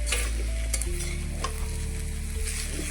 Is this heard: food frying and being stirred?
yes